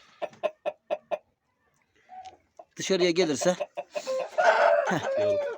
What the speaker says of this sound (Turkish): bu da böyle güzel bir horoz